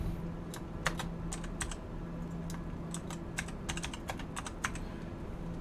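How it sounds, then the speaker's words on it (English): Someone types on a computer keyboard, with quiet, irregular clusters of keystrokes and single taps over a low steady hum and no talking. "Let me do some typing here."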